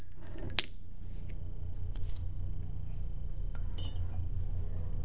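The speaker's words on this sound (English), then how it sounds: "Put the spring cap washer back over the top." A single sharp metallic clink rings out as a spring cap washer is set onto an aluminium Borg Warner single-rail shifter nut, followed by faint small metal taps in a quiet workshop.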